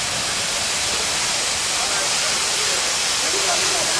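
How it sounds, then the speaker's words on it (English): Water gushes from a burst pipe at a public bath as a loud, steady, close rushing hiss that fills the whole stretch without pause. "pipe has clearly burst and it's been like this for a while now"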